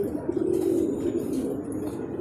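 Homing pigeons arriving back from a training flight coo in soft, continuous low murmurs close by, a steady throaty burble with a faint bird chirp above it.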